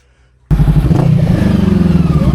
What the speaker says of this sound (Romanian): Ăla e CB de 500.